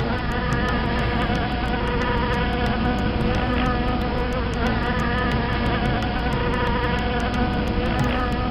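A bee buzzes and hovers near a jasmine flower, its steady droning hum continuous and fairly loud throughout, alone without voices.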